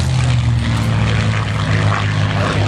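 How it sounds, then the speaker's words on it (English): A Supermarine Spitfire at an air show drones past with a loud, steady piston-engine roar and propeller hum that stays level for a few seconds. "Possibly the most famous and distinguished Spitfire there is."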